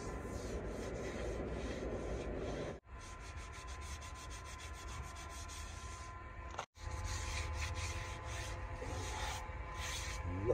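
An aluminium wheel rim with a mixed high-trail finish is rubbed and polished by hand, a continuous close scouring rasp that stops briefly twice and then resumes.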